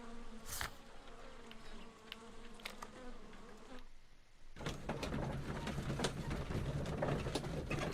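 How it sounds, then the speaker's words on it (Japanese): Honeybees buzz inside the Sherlock Holmes: Crimes & Punishments game, a steady insect drone that pauses briefly and then returns fuller and louder, with no talk over it. "もう、ミツバチが。"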